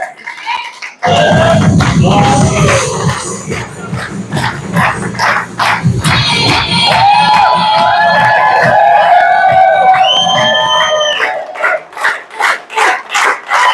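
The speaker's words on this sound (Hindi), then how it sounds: "जोरदार तालियां बजा लीजिए आप" A seminar audience bursts into loud, dense clapping and cheering at a business talk, with some whoops and shouts layered on top before the clapping thins out toward the end.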